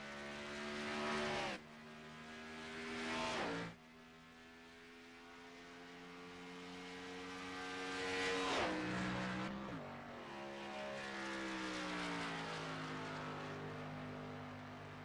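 Race cars on single-car qualifying laps at Daytona International Speedway in iRacing, a steady engine drone with rising and falling pitch as cars pass, swelling loud and then fading.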